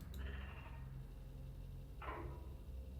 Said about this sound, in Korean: 왜 돼지가 양 소리를 내지?